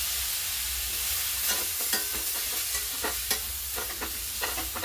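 Eggplant is stirred into an onion and garlic masala in a pan, with a steady sizzle and a series of close scraping and clinking stirs, no voices.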